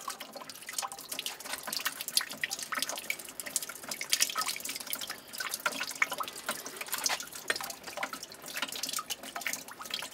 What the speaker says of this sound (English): So that water's going to keep on coming for a while.